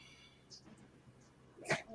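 A single sharp sneeze bursts out near the end after a quiet stretch with faint rustling and breathing.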